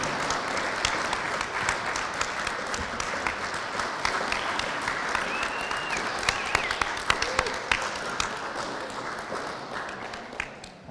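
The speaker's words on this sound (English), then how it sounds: "And a big round of applause for the graduates of Mining Program for" At a mining program graduation, a seated audience applauds the graduates with sustained, moderately loud clapping for about ten seconds, with a few sharper individual claps standing out before it tapers off.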